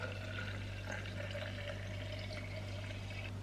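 Water from a measuring jug poured into a cup, about 400 milliliters, making a steady close-up trickle that runs alone without pause.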